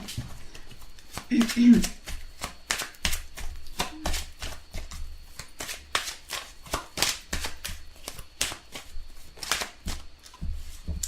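Tarot cards being shuffled by hand, a quick run of crisp riffling and slapping taps close by, repeating steadily throughout with brief pauses.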